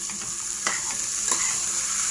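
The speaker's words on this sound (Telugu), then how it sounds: "ఉడికించి పెట్టుకున్న శనగపప్పు కూడా దాంట్లో వేసుకుందామండి" Boiled chana dal being stirred into a sizzling masala in a pan for a curry, with a steady fry hiss and a few soft scraping stirs, close up and with no voices.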